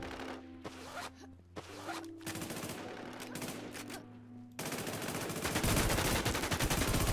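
Gunfire in the online shooter Warz Deadzonez, with scattered sharp shots at first that give way to a dense, continuous burst of rapid fire.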